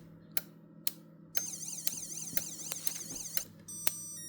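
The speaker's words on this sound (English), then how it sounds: "Right, that's the alarm set off." Viper car alarm sounding after a door is opened: a loud warbling electronic siren with rapid pitch sweeps, set off by a few sharp chirps before it starts, continuous and close by with no talking.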